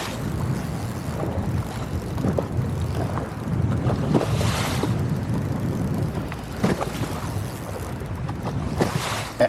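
Strong wind roars steadily over open water on the St. Lawrence River during a bass fishing tournament, with constant rushing buffeting on the boat and microphone and a few louder gusts.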